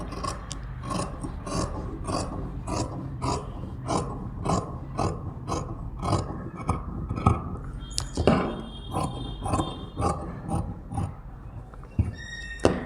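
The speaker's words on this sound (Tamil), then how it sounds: "இப்போ கையை கட் பண்ணுங்கள்" Scissors cut through blouse fabric for a large-size cross-cut blouse, a steady run of short rasping snips repeating close by for over ten seconds with no one talking.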